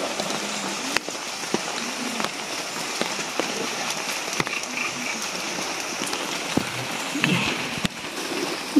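Rain falling steadily on surfaces near the Chocolate Hills in Bohol, Philippines, a constant hiss with scattered louder drips and taps, faint voices now and then underneath.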